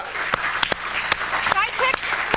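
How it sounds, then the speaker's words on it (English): A studio audience claps and cheers throughout, with scattered sharp hand claps and a voice calling out over the steady applause. "start clapping again"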